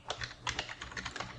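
Quick, light typing on a computer keyboard, a steady patter of soft key clicks at close range with no voices.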